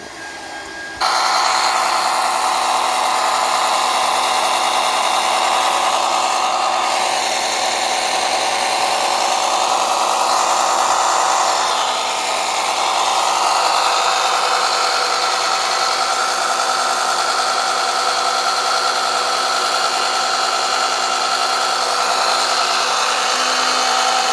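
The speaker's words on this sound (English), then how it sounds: "there's a switch on the pump. We're going to go ahead and activate." An electric oil extraction pump drawing oil from a Jaguar XJ engine drones continuously with a mechanical whine, close by and fairly loud, with no talking.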